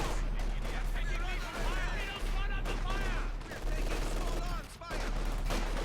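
Rapid machine gun bursts rattle through a Company of Heroes 2 battle, mixed with other gunfire and combat noise, the volume dipping briefly between volleys.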